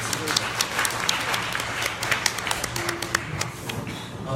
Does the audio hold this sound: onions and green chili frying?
no